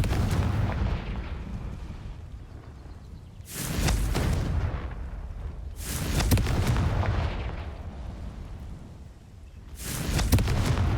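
Fiery blasting spell explosions from Hogwarts Legacy, a Harry Potter video game: three heavy booming bursts land about every two and a half seconds over a low rumbling background, loud and close.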